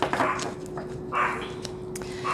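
A small chihuahua yaps in a few sharp, high bursts, fairly close, with quiet pauses between the barks.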